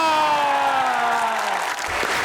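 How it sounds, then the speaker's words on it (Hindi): Studio audience on a comedy talk show applauding guest Hassan, clapping heard beneath a sustained musical sting with gliding tones that fades near the end. "put your hands together for Hasan"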